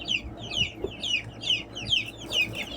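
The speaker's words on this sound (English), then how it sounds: "Look at them all chirping around," Young chickens in a trailer chirp and cluck steadily, a chorus of high peeping calls repeating in quick bursts with a few lower clucks underneath, close by and fairly loud.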